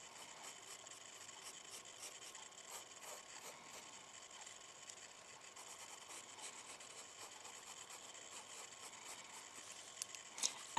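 A pencil shades on paper while drawing a skull, a soft continuous scratchy rubbing with small irregular strokes, close and faint throughout.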